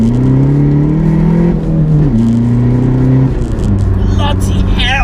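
A tuned Mark IV Golf diesel, roughly 310 bhp, accelerating hard in second gear, heard loud from inside the cabin as a steady climbing engine drone with a brief dip partway through.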